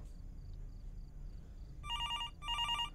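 A telephone ringing in the video game Fears To Fathom: Norwood Hitchhike, sounding as two electronic warbling bursts in quick succession after a quiet stretch with faint low ambient hum.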